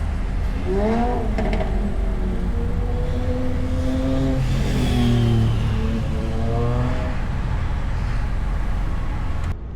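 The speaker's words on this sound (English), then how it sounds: "Let's go rev it up." A Jaguar car engine revs up in several rising and falling sweeps, close and loud over a steady low rumble of the running engine, with no talk.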